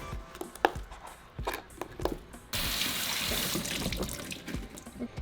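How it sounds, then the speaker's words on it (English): Cut potatoes clatter in a kitchen sink, then a faucet opens and tap water runs over them in a loud, steady rush that continues to the end. "we're going to give them a quick rinse."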